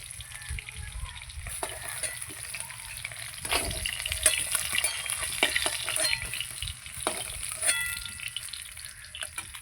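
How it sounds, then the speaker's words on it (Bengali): Pieces of katla fish frying in a wok, a loud continuous sizzle and spatter close up, broken by repeated clinks and scrapes of a spatula being lifted through the hot oil. "সব মাছ আমার ভাজা হয়ে গেল"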